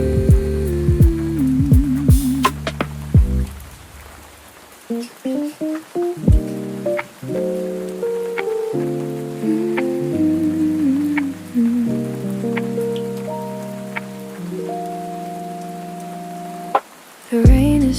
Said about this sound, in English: Rain keeps falling softly through the night